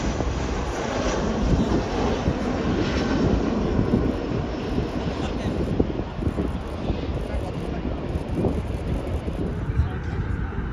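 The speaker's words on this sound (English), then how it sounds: "We have Qatar back there getting airborne back to Doha." Steady, broad engine roar of a large Qatar airliner taking off, building and holding for several seconds, with some wind rumble and no talk.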